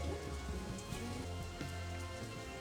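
Steady rain falls in an anime scene, a soft continuous patter on surfaces with scattered individual drops ticking through it, faint and even throughout.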